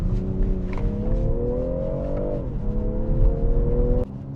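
A BMW M340i xDrive accelerates hard on an icy road, its engine note climbing steadily in pitch as it pulls, dipping briefly with a shift, then rising again under a loud, continuous drone.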